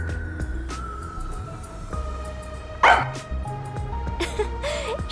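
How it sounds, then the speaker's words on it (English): A dog barks and yips in the Rain Code video game, several sharp barks scattered over a game soundtrack with music and ambience, one loud bark standing out near the middle. "I looked around and noticed Sugar barking at this room"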